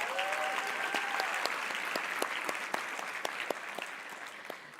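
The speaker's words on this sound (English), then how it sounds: "So can we have a round of applause for them?" Steady audience applause at an innovation jam event, full and even at first, then thinning to a few distinct claps as it slowly fades toward the end.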